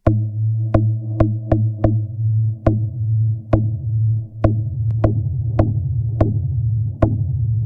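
Flanger from a Strongsoft SS-F1V pedal on a sustained low tone, with a steady hum-like drone swept by a throbbing modulation and punctuated by a series of sharp, irregular clicks, loud and close.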